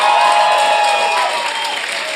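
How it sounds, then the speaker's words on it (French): Audience applause for the guest Gabi Tibi at a live comedy show, a loud, even wave of clapping mixed with some cheering that fills the room and tapers slightly toward the end, with no talking. "J'aimerais ça qu'on donne une bonne main d'applaudissement à Gabi Tibi."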